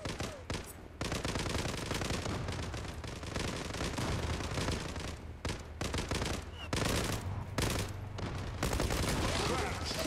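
Rapid automatic gunfire from an online shooter game, Zula, with dense repeated shots filling the stretch, including a point-blank blast, loud and continuous with brief gaps.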